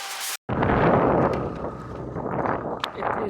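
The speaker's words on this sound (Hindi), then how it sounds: "इतनी ज़बरदस्त और ठंडी हवा चल रही है।" Strong, cold wind roars steadily against the microphone on an open mountain road during a motorbike trip to Fort Munro, a loud, continuous rumbling gust that follows a brief sharp cutoff at the start.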